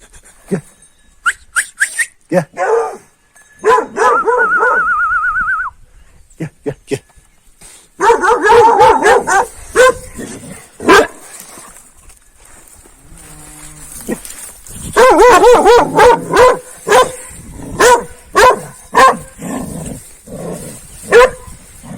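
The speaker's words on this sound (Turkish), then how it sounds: "Büyük köpek geldi." A large Kangal dog at a Turkish village barks and howls in loud, close bursts, deep woofs mixed with drawn-out whining calls, spread across repeated clusters with brief quieter gaps.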